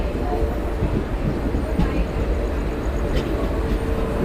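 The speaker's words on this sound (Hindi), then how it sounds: "सामने जो ट्रेन है कुंभ एक्सप्रेस वो निकलने के लिए रेडी है।" Low, steady rumble of an Indian express train, the Kumbh Express at Dehradun station, under continuous station noise, with faint clicks and a muffled hum. The sound stays level and close throughout.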